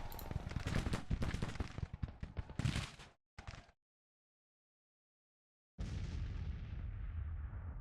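Dense musket and cannon fire from a Civil War battle in the strategy game Grand Tactician, rapid overlapping volleys that cut off abruptly, a short burst, silence, then heavy rolling gunfire resumes.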